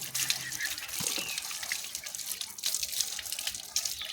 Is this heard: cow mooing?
no